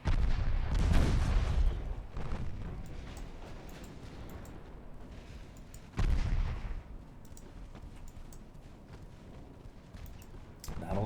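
Naval guns fire at a battleship in Ultimate Admiral Dreadnoughts: three deep heavy booms spaced several seconds apart, each trailing off into a long low rumble.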